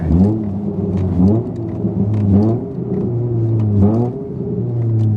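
A Repo Euro R car with a rebuilt six-speed drivetrain drives and accelerates, its engine rising in pitch through repeated gear pulls with short dips between shifts, close and moderately loud, no talk.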